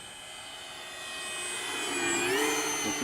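A Durafly T-28 Trojan RC model plane, a 1100 mm electric warbird, drones overhead in a steady high-pitched motor whine that swells louder and bends in pitch as it passes close by.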